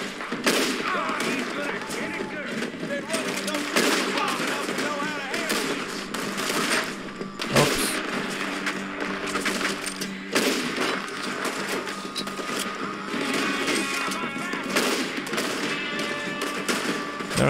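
Dense gunfire rings out in the Red Dead Redemption II video game during a shootout with O'Driscoll gang members, with rapid overlapping rifle and shotgun shots and bursts over continuous loud battle noise, along with occasional game voices.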